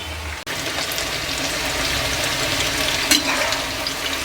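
Eggplant bajji batter fries in hot oil with a steady, close, dense sizzle and a brief louder pop partway through.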